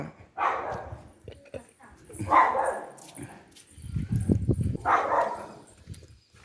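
A few dog barks ring out at a distance, spaced irregularly, with a person talking nearby in between.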